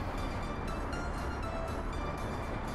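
Continuous heavy rolling noise from a passenger train in the Soviet Republic city-building game, dense and close, with soft periodic wheel clicks and no talking.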